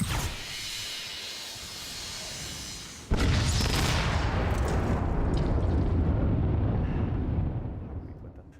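Explosions and weapon fire from the augmented-reality game The Machines, a steady rumbling roar that jumps louder partway through with a sharp blast, then continues as dense booming and hissing before fading.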